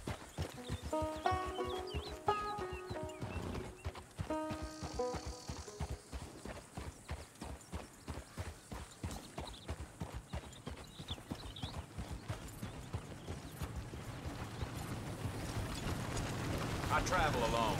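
Horse hooves clip-clop in a steady, rhythmic gait during a ride in Red Dead Redemption 2, set under game music and a talking voice, with a rising wash of noise toward the end.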